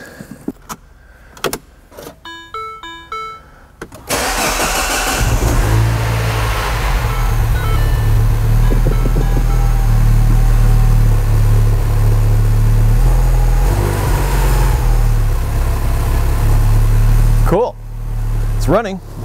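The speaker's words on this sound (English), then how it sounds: "First start of this thing, hopefully without oil leaks," A Mini Cooper engine starting for the first time after installation: a few clicks and a whirring crank, then it catches and settles into a loud, steady idle that runs slightly rough, recorded close up before cutting off near the end.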